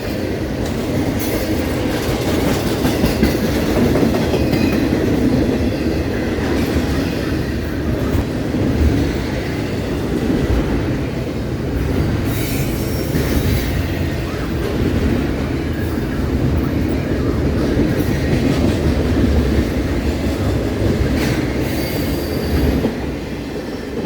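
A Norfolk Southern NS-24X high-priority intermodal freight train rolls steadily past in Spartanburg, South Carolina, a continuous loud rumble of wheels and cars with faint squeals and rhythmic clacking throughout.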